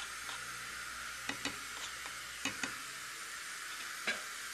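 Minced meat and parsley fry in a pan with a quiet, steady sizzle, broken by a few sharp clicks and taps of a utensil stirring against the pan.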